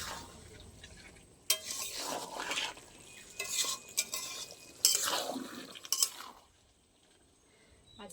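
Fish-head curry with Malabar spinach being stirred in a pan, giving scraping, clattering spoon-on-metal strokes in several bursts over a soft simmering background, fairly close and moderately loud, with no talking.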